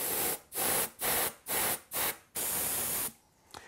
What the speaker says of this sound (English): get a can of compressed air and just give them a squirt on the inside